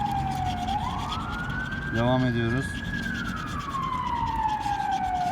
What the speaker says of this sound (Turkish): Ambulans öne gidiyor.